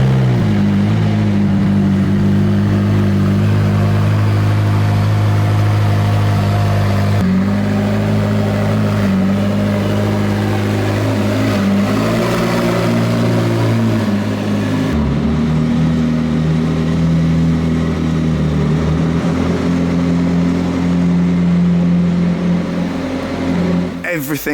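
A McLaren P1 GTR supercar, road-legal converted, idles loudly after start-up with a deep, steady engine rumble and occasional blips of revving throughout, close and dominant with no talk over it.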